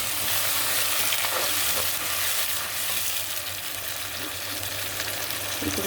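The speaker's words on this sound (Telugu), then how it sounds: "ఇలా కలుపుతున్నాను." Ground paste and tomato are stirred in a hot frying pan for pesara punugula pulusu, a moong dal fritter stew, giving a steady, close sizzle with soft scraping strokes throughout.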